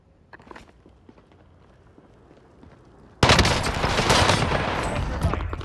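Gunfire in Call of Duty: Modern Warfare, quiet footsteps and scattered taps first, then a sudden loud burst of rapid automatic fire that continues steadily close by.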